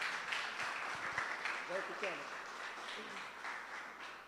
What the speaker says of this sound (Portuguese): Eu queria que você desse uma salva de palmas para Jesus Cristo.